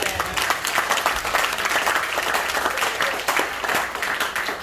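A church congregation applauds God during a sermon. Dense, sustained clapping from many hands fills the space loudly and continuously, with a faint murmur of crowd voices underneath.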